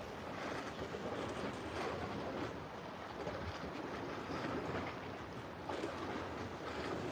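Waves lapping against a fishing boat, a steady low wash of water with faint wind, continuous and fairly quiet throughout with no talk.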